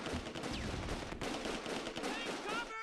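Rifle squad gunfire in Close Combat II, a World War II game, crackles as a dense, continuous spread of distant rifle shots with a few sharper reports, and one loud crack near the end.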